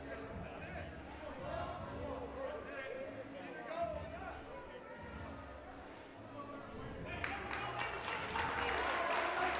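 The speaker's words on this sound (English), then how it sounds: "Got all the North Platte fans cheering him on" Fans at a high school wrestling dual between Kearney and North Platte cheer and applaud steadily for a wrestler, a dense crowd roar under commentary that swells louder near the end.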